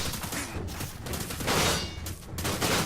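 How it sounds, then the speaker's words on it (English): Rapid gunfire bursts from a machine gun in the VR game Prevent The Fall, loud and dense, continuing for the full length with brief dips between volleys. "Sounds like a machine gun is going off on their head"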